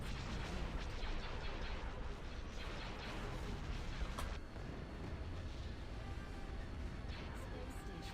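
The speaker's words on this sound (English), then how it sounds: "It's just fire. It's just a fireball." Continuous heavy rumbling blasts of space-battle explosions and fireballs in a video game, dense and roaring throughout, with a sharper burst near the middle; loud synthetic explosions with no quiet gaps.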